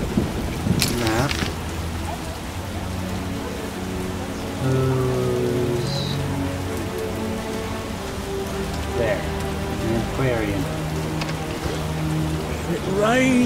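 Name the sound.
rain pouring in The Witcher video game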